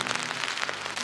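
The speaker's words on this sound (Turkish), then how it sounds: "Nereye gitsem yağmur yağıyor ya." Rain falls steadily in Stockholm's old town, a continuous close hiss of drops hitting the surface with no voices over it.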